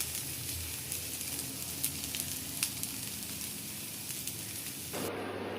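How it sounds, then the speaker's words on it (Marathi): Elephant foot yam slices fry steadily in hot oil, a dense continuous sizzle with crackling pops that runs evenly for several seconds before briefly changing tone at the end. "गोल्डन कलर येईपर्यंत आपल्याला ते फ्राय करून घ्यायचे आहे."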